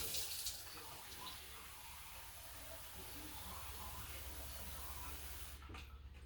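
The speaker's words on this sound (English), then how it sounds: "I'm going to get my lids into some nice hot water to begin soaking" Hot water runs and hisses steadily while canning lids are set into it to soak, a continuous, even splashing rush heard close by that cuts off sharply near the end.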